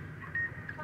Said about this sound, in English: I have no idea where that beeping, you know, thing is originating